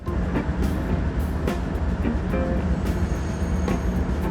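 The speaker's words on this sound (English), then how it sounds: "this surprise Metrolink inbound train with an F59PH locomotive trailing behind" Metrolink inbound commuter train with an F59PH locomotive trailing at the rear, passing as a steady loud rumble with rolling wheel noise, a faint high whine and brief clanks throughout.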